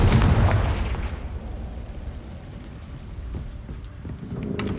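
A Confringo blasting spell detonates in Hogwarts Legacy gameplay, a loud booming burst up front that rolls into a fading rumble, followed by quieter crackling debris and low game ambience.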